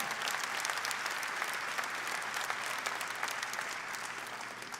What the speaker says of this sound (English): let's give a great round of applause to DJ